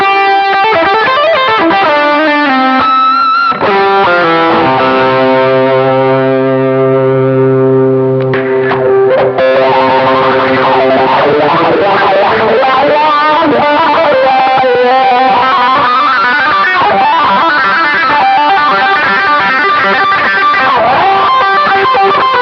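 Electric guitar played through a Neunaber Iconoclast stacked with an SL Drive pedal, lightly overdriven chords ringing out and sustaining, then a busier passage of notes, loud and up close.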